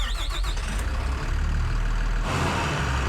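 An engine starts up in Farming Simulator, a short whine giving way to a steady low idle that swells louder near the end, with no voices over it.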